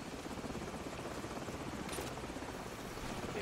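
A helicopter in the video game Call of Duty 4 drones steadily and loudly throughout, a dense rotor roar with a brief brighter whine near the middle, with no talk over it.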